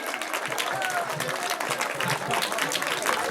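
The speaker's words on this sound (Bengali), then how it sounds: "তোমরা যদি তোমাদের বন্ধুদের হাততালি দিয়ে করতালি দিয়ে অভিনন্দন না জানাও" A school science exhibition's closing award ceremony fills with dense, continuous crowd clapping, with voices mixed in beneath the applause.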